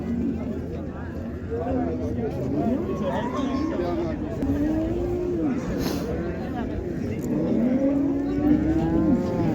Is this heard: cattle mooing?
yes